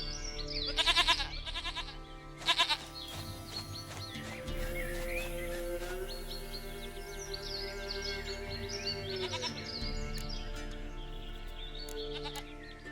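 A goat in The Witcher 3: Wild Hunt, played on PC, gives two short, loud bleats near the start, followed by steady in-game ambience with faint bird chirps.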